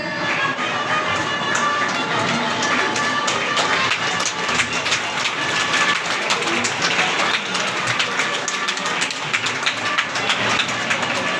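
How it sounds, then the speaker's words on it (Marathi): Audience applause at a chess tournament prize ceremony, a sustained dense patter of many hands clapping at moderate distance, steady throughout without pause. "टाळ्या जोरदार व्हायला पाहिजे"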